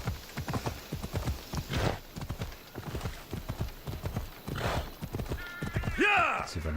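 Rapid rhythmic hoofbeats of a galloping horse in Assassin's Creed Odyssey, steady throughout, with a horse whinny rising near the end.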